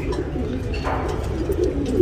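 A female tournament pigeon of an old racing line, in full breeding condition, gives soft low coos at close range, a few throaty pulses over a quiet background.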